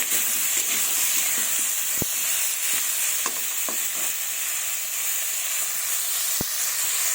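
Potatoes with turmeric powder fry in a pan, giving a steady, close sizzle that runs throughout, with a few sharp clinks of a utensil against the pan.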